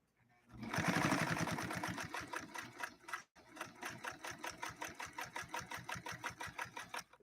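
A Necchi Lelia 512 sewing machine stitches at speed, a loud, steady rapid chatter of needle strokes that pauses briefly, then restarts with a slower, distinct rhythmic clatter, heard alone without speech.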